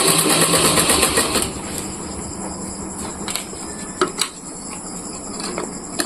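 A bag made from a cement sack is stitched with a fast, close mechanical rattle for the first second and a half, then a quieter whirring with a few clicks and knocks.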